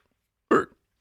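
A single short hiccup-like gulp, close and fairly loud, lasting about a quarter second in otherwise silence.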